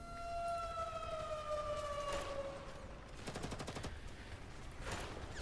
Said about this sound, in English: an ear-splitting alarm goes off in the northeast, followed by a vicious burst of gunfire